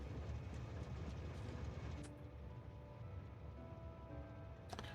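Train running on rails in a video game, a low steady rumble with faint rail clatter, a quiet chime near the middle and a brief click near the end.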